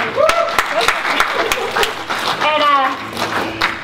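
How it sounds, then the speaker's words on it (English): An audience claps in scattered, uneven bursts at a talk about the Bread and Roses mill strike, close and fairly loud, with voices speaking and exclaiming over the clapping throughout. "We can clap for them."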